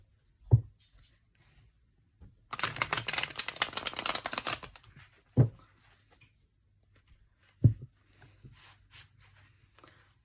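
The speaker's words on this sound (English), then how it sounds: "Let's see how these cards shuffle." Tarot cards from a French-edition Lumina deck are riffle-shuffled in one dense, crackling burst of about two seconds, with a few soft taps and knocks before and after in an otherwise quiet room.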